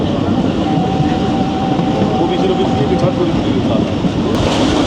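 Jaffar Express passenger train crossing Dina bridge, a steady loud rumble of wheels and carriages throughout, with a faint thin squeal running through the middle and no pause in the roar.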